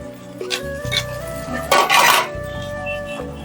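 Chicken noodles stirred in a pan, giving soft metallic scraping and clinks close by, with one louder burst of clatter midway over a steady background hum.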